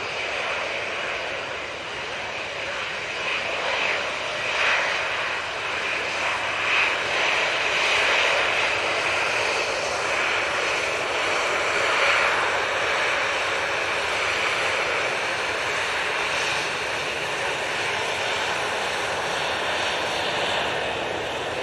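Air Transat airliner jet engines at Manchester Airport, a steady broad roar that holds at a constant distance without clear build or fade, continuous and alone for the whole stretch.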